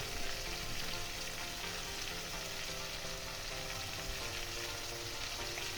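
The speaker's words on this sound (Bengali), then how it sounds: "এবার আমি সব কিছুর সাথে ভালো করে কিছুক্ষণ কষিয়ে নেব।" Mixed vegetables with eggplant, green chili, salt and turmeric sizzle steadily in a pan, a constant dense hiss with no talking.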